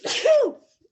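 A single sharp sneeze, loud and close, with a breathy burst ending in a short voiced tail, then silence.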